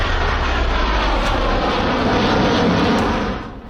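A Russian fighter jet taking off from an airbase in Syria gives a loud, continuous roaring rush that holds steady before starting to fade at the end.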